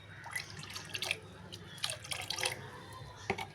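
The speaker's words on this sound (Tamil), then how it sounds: "இப்போ இதை வந்து தண்ணியில் நம்ம கலக்கிக்கிறோம்." Beetroot peel fertilizer being stirred into water makes soft, close splashes and drips, a quiet, irregular sloshing with occasional sharper droplet sounds.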